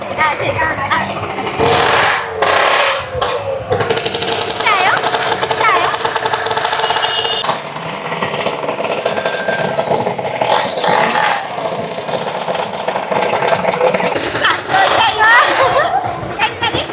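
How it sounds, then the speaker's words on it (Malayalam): Three motorcycles, one of them a Bullet, ride in a show at a crowded festival procession in Tripunithura, with a loud, rough, knocking engine rumble and revving throughout, mixed with crowd chatter and people talking nearby. "ഇപ്പം 3 ബൈക്ക് അറ്റ് എ ടൈമാണ് പോകുന്നത്. അതിലൊരു ബുള്ളറ്റും കൂടി ഉണ്ട് കേട്ടോ"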